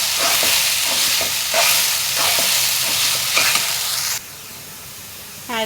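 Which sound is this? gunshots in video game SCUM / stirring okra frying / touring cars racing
stirring okra frying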